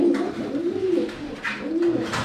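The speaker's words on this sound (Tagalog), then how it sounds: "So, ito siya mga kalapati." Pigeons coo close by in a loft, several low rolling calls that overlap and repeat over a couple of seconds, with soft rustling in the background.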